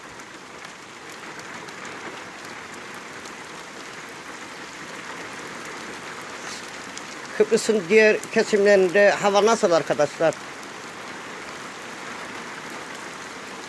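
Heavy rain pours steadily over Güzelyurt, Cyprus, a continuous broad hiss throughout, while someone speaks briefly in the middle over the downpour.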